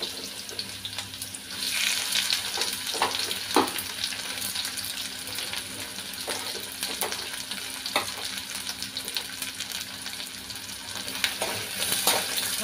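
A large, vertically sliced onion fries in hot oil for a tempering, giving a steady close sizzle throughout with occasional light clicks and scrapes of stirring.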